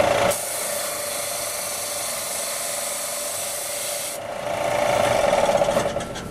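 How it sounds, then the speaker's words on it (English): Close, rasping strokes of sandpaper on a wooden drone flute, a steady scratchy rub that grows louder and more rhythmic near the end. "We're going to sand the flute side down a little shorter here."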